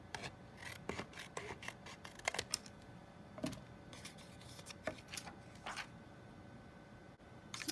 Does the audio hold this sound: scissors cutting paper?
yes